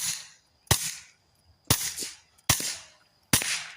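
Kel-Tec P17 pistol fired outdoors at a range, four sharp reports spaced roughly a second apart, each followed by a short decaying tail as the bullets strike dirt, moderately loud.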